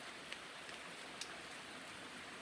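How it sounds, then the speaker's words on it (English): Steady rain patter from a meditation music track plays faintly in the background, a soft continuous hiss with a couple of small drop-like ticks. "music tracks on with meditation music with the rain. I think you can hear it, right?"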